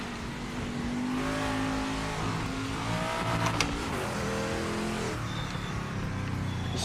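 A car engine revving while driving in a racing video game: a steady, fairly close engine drone that rises and falls in pitch through gear changes, with brief squeals, playing alone without talk.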